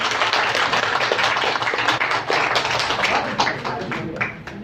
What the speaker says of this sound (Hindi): आपकी भरपूर तालियां हो जाएं